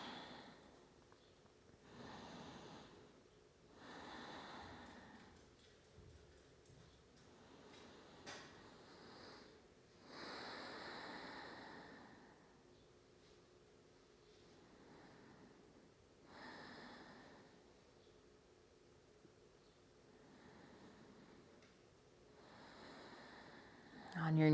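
Deep, slow breathing during a yoga twist pose, with several long audible inhales and exhales spaced a few seconds apart, soft and close in a quiet room.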